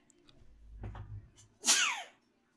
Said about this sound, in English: I sneezed it to my arm.